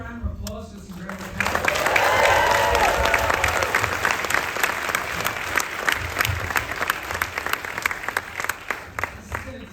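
A theatre crowd at a film Q&A bursts into applause and cheering, swelling after a quiet start into loud, dense clapping with whoops that keeps going at high level throughout.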